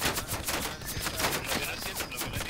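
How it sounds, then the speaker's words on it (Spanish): Rapid bursts of gunfire and explosions from the World War II shooter game Hell Let Loose, a dense chaotic barrage of cracks and thumps with little pause throughout. "Estoy metiendo una en un caparazón recibiendo disparos y bombazos."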